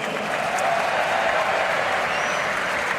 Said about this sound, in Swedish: Han förtjänar landets egen varm applåd.